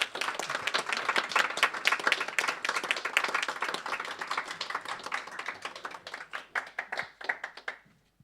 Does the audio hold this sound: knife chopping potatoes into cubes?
no